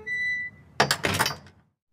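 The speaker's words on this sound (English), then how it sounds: "I push my way through and close the door behind me." A door pushed open with a solid thunk, then a second heavier knock as it swings shut, two quick close impacts following a brief tone, then silence.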